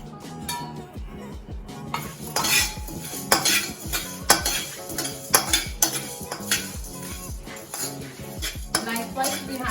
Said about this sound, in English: So we are going to dry roast all these spices and we are going to make them as powder.